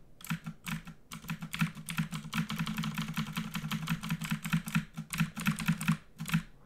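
A computer keyboard is typed on in quick bursts of close, crisp key clicks, with brief pauses between runs and repeated presses of the tab key while playing Dungeon Crawl Stone Soup.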